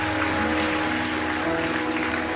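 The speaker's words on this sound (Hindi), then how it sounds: "इनके लिए एक बार जोरदार तालियां" Audience at a devotional discourse applauding, a dense, even wash of many hands clapping steadily throughout, fairly close and without talk.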